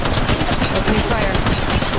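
Rapid automatic gunfire from the mobile shooter Apex Legends Mobile, a loud continuous stream of closely spaced shots with no break for the full two seconds.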